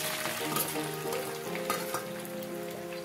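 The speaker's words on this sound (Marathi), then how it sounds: "हे बारीक चिरलेले कांदे आपल्याला फास्ट गॅसवरच तळायचं आहे।" Finely sliced onions fry in very hot oil over a high flame, browning for vegetable biryani. A continuous, crackling sizzle runs throughout, with light stirring noises mixed in.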